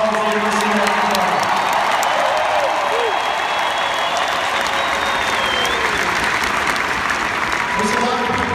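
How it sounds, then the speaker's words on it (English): Hockey arena crowd at a college playoff game applauding, dense continuous clapping with cheering and a few whoops filling the building throughout. "How about another round of applause for a great playoff series for Colorado College and UNC North Dakota?"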